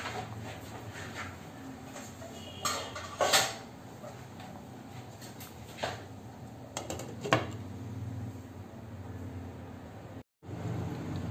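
A lid set onto a pot of ghee rice on the stove, with a couple of clear metallic clinks and clatters among quieter kitchen handling noises, close by and with no speech.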